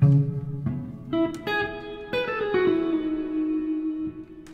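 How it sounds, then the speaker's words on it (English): Electric guitar notes and chords played through a reverb pedal, drenched in reverb, each strike ringing out into a long washy tail that overlaps the next. "Next common mistake is putting the reverb before the distortion. Here's the reverb."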